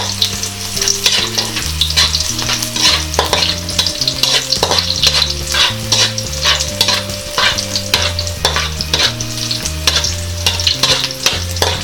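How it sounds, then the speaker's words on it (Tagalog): Garlic sautéing and stirred in a pan, a loud close sizzle with rapid scraping stir strokes all the way through, under steady background music. "Ngayon po ay igigisa na natin itong ating bawang. Tapos ihahalo lang natin siya para hindi po siya masunog."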